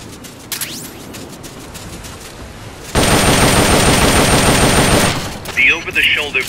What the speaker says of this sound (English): The M16 is a standard assault rifle, capable of rapid fire.